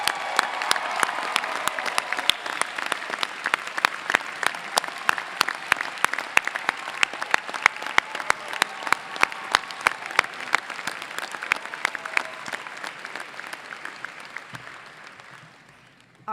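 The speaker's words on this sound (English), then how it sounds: "So before we close out our ceremony, I would like to have a round of applause for Professor Kevin Frick" Sustained applause from the audience at a Johns Hopkins Carey Business School spring graduation ceremony, a dense crowd of clapping hands that continues steadily for about fifteen seconds before tapering off.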